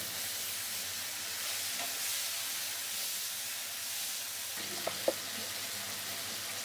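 Dry chilli, a bay leaf, green chilli and ripe tomato fry in hot oil with a steady broad sizzle, broken near the end by a couple of sharp clinks of a utensil against the pan.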